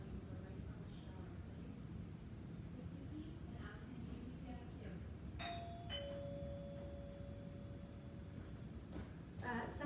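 A home doorbell rings during an arm workout session, giving a two-tone electronic chime whose second note lingers for several seconds, fairly faint against steady room background noise.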